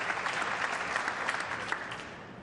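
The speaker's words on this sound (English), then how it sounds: "Now clapping every shot here." An audience at an Efren Reyes versus Tony Drago pool match breaks into steady, moderately loud applause after a shot, a dense patter of clapping hands that tapers slightly toward the end.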